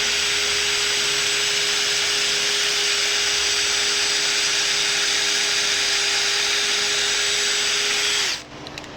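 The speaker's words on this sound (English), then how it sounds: "you just drill it in" A loud, steady whine of a power drill driving a screw into wood runs continuously for several seconds, then abruptly stops.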